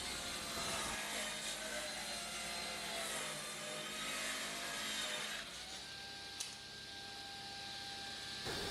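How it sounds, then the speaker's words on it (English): A power saw cuts rubberwood into strips for an end grain cutting board in a cramped garage workshop, a steady loud whine running for about five seconds before dropping to a quieter, thinner hum with a brief click. "Just cutting him into strips and then docking him to about 280."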